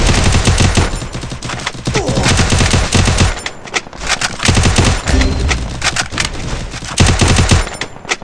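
Loud, dense automatic gunfire from a video game shootout, with rapid bursts and overlapping volleys running almost without pause.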